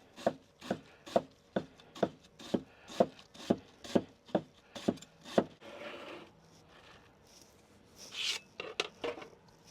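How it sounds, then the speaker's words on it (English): A knife cuts cabbage on a wooden board in an even rhythm of about a dozen crisp, close chops. After the chopping stops, softer rustling and a few clattering handling noises follow. "let's just cut up the cabbage and slice some lemons"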